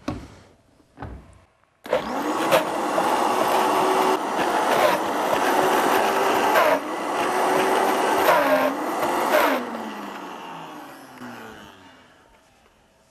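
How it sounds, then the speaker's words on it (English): Vitamix blender running at high speed on raw mayonnaise, a loud steady motor roar with shifting whine as the blades catch and miss, starting abruptly and winding down at the end. "another thing with the Vitamix, as you can tell, if you don't have enough stuff in there, like the blades won't catch it"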